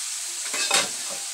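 Chayote sautéing in a pan: a steady, close sizzle with a brief swell of stirring and scraping near the middle, no voices.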